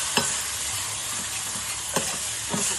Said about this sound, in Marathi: आता हे छानपैकी भाजून घ्यायचा आपल्याला मसाला